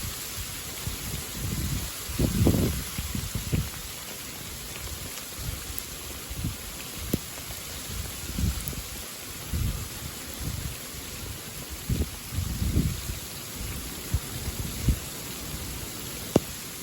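A surprise February hailstorm pours down with steady dense rain and pelting stones, a continuous hissing wash broken by louder bursts of impacts, with no voices.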